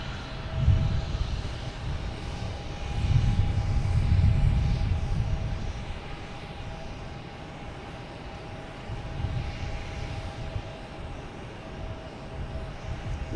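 A JetBlue Airbus A220 bound for Milwaukee flies at Boston Logan Airport, its engines a low, moderately distant rumble that swells twice and then settles into a steady drone.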